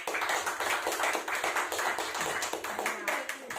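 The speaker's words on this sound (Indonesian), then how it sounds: "Ya berikan tepuk tangan dong buat kemuliaan Tuhan" Church congregation at a worship service clapping together, a loud, fast, steady rhythm of many hands beating in unison, with a voice heard underneath.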